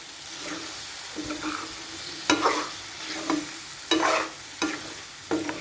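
Chicken roast masala sizzles in a pan while a spoon stirs it in several distinct scraping strokes, close up, over a steady frying hiss.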